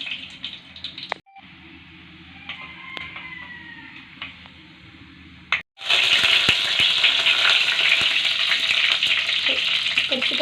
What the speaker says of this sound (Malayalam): പിന്നെ മീൻ കുറച്ച് വറുക്കാൻ വേണ്ടി സെറ്റാക്കി വെച്ചിട്ടുണ്ട് കേട്ടോ